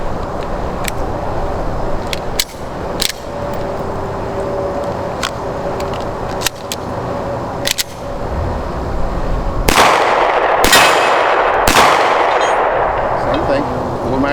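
Loud outdoor gunfire from a WW2 P-38 pistol, several sharp shots spaced irregularly, with heavier blasts near the end over a steady background rumble.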